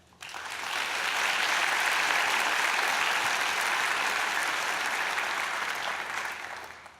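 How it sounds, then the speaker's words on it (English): Graduates at a Mohawk College fall convocation clap together, a dense sustained round of applause that swells quickly, holds steady for several seconds, then tapers off, with no voices over it. "give yourselves a round of applause"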